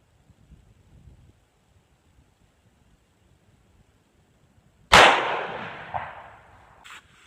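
A shotgun fires a single shot shell at a target 7 feet away: one sharp, loud blast after near silence, followed by a decaying rumble and a faint later clatter.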